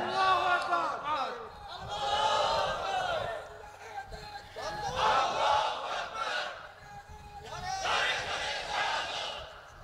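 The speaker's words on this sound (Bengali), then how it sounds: "তাকবীর দাও না রে ভাই।" A large crowd answers a speaker's call with takbir, shouting Allahu Akbar in loud repeated waves of massed voices, one roughly every three seconds.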